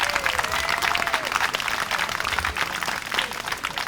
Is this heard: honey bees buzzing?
no